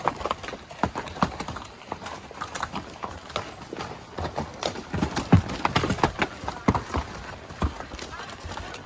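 A five-year-old horse named Casper picks his way over rocks on a tricky trail, hooves clopping in an uneven, careful walking rhythm close by, with a rider talking over the steps.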